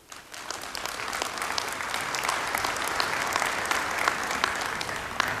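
Audience applause rings out at the Dubai World Cup draw ceremony in Dubai, a dense, steady wash of many hands clapping that swells slightly and holds for several seconds with no voices over it.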